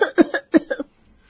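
A woman coughs in bed at night, a quick run of harsh coughs in two close clusters, near and loud, then falling quiet.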